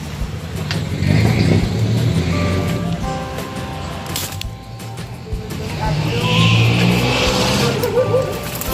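A jeepney engine drones on a ride toward City Hall in Quezon City, a steady low rumble with road noise and passing traffic, close and continuous, with faint voices now and then.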